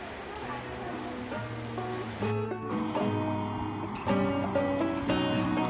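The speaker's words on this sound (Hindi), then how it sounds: "मुझे बारिश हद से ज़्यादा पसंद है।" Rain falling on a rainy evening, heard from a home balcony, makes a steady, fairly soft patter of drops on surfaces that grows a little louder partway through, with faint background household tones.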